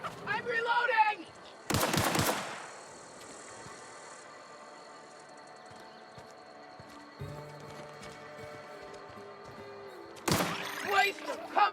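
Gunfire bursts in the sci-fi video game The Outer Worlds, sharp loud volleys near the start and again near the end, separated by a quieter stretch of hum and game ambience, with voices shouting around them.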